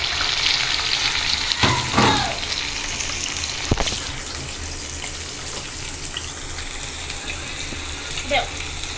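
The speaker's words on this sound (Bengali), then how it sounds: "মাছগুলো ভেজে নিচ্ছি।" Rohu fish pieces frying in mustard oil in a pan, a continuous close sizzle with a few sharp bursts and clatters near the start, a faint voice briefly in the background.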